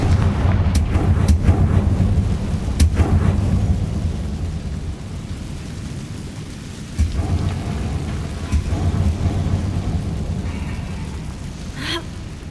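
Booming, rumbling blasts of the Confringo fire spell in Hogwarts Legacy, a heavy continuous roar with sharp cracks scattered through it, loud and close, with no talking.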